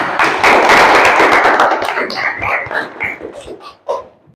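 Applause from a classroom of students, a burst of many hands clapping together that thins after a second or two into scattered individual claps and taps before dying out.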